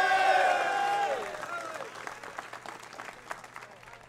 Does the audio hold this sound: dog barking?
no